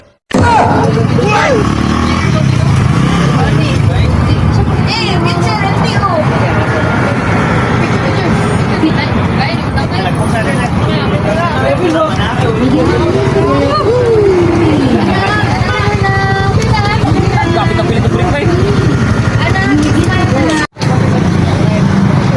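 A Honda Winner X 150 motorcycle is ridden through traffic, its engine droning steadily under loud wind buffeting and passing vehicles, while the rider talks throughout.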